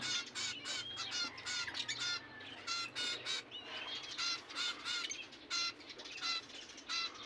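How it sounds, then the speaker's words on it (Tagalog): Pet finches in an aviary chirp and tweet in rapid bursts while being fed, with close wing flaps and a busy, bright chatter throughout and no voices. "yung finches natin, ayan, so papakainin natin"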